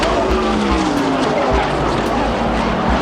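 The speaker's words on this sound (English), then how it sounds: "Oh, we have a problem. Allison is blowing the tire." A stock race car at Talladega roars loudly past amid other engine noise, with a tire-screeching skid during a crash on the front stretch. A faint voice sits under the din.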